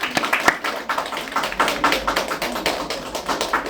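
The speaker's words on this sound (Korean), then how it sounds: "박수합니다. 박수합니다." A church congregation claps together in steady, fairly quick rhythm during a Sunday worship service. The applause is moderately loud, with no talking over it.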